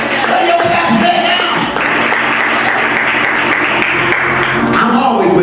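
A church congregation claps steadily and densely during a service, with voices and shouts mixed into the applause, filling the whole stretch without a break.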